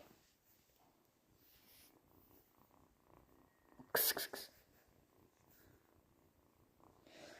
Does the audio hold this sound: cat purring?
yes